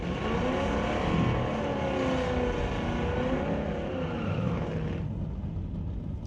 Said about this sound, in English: Next one up, Grace Campt, running the Ground Pounder Racing 1964 Falcon.